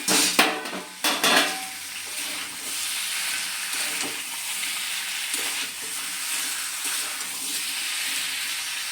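Young jackfruit curry sizzles and fries in a pan, with a few sharp clatters of stirring near the start, then a steady close hiss of sautéing that carries on alone to the end.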